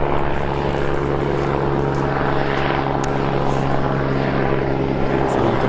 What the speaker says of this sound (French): C'est l'hélicoptère.